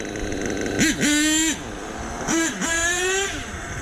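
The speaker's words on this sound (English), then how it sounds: "When it idles down like that and gurgles, it's got too much fuel in the bottom of it." A truck engine running rich at the bottom end gives two short rev bursts, each rising and then falling back toward a low, gurgling idle, loud and close.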